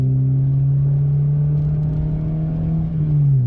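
A 135-horsepower engine-swapped Ford car drones loudly and steadily from inside the cabin on a back road, its pitch holding then dipping slightly as it pulls, with no talking.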